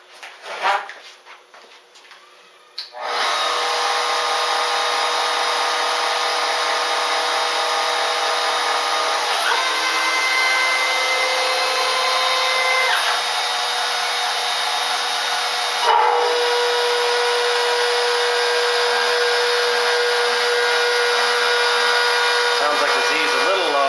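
CNC router cutter spinning at 8,000 RPM while surfacing a router table with a shallow pass, a loud, steady high-pitched whine that starts abruptly after a brief quieter lead-in and holds continuously, with a slight shift partway through.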